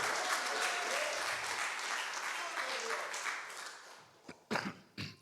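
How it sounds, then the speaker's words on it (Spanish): A church congregation breaks into dense, sustained applause during a sermon, filling the room at full volume before fading, with a few voices and scattered claps at the end. "Dáselo fuerte a Dios ese aplauso"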